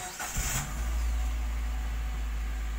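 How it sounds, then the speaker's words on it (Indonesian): A 2014 Suzuki Mega Carry DN41T wide-deck pickup starting, a brief starter crank that catches quickly and settles into a steady, deep idle close by. "Suara starternya mirip-mirip all new carry ya."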